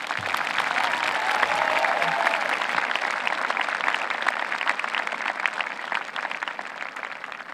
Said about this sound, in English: We have another round of applause for our student speakers.